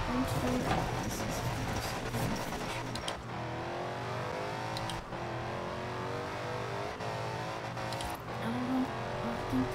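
A Lamborghini's engine in Forza Horizon roars loud and steady while the car drifts, its revs rising and falling in a continuous sustained drone with brief dips.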